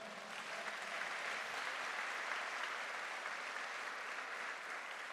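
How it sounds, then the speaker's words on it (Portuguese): A church congregation at a Noite dos Milagres service claps in steady, dense applause that holds evenly for about five seconds, fairly faint and with no voices over it. "Uma salva de palmas pela vida desse irmão"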